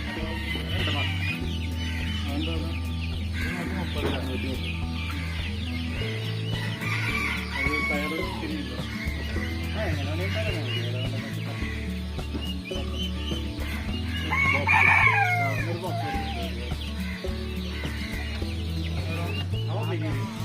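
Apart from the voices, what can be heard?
chickens clucking and crowing at market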